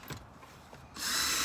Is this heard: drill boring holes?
yes